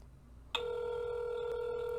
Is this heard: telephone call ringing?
yes